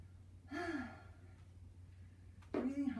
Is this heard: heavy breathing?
yes